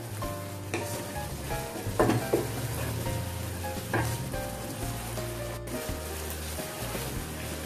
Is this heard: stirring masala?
yes